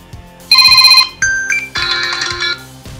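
Built-in ringtone preview on a Huawei Honor 5X phone: a loud, bright electronic melody of short tonal phrases lasting about two seconds, heard alone with no talk.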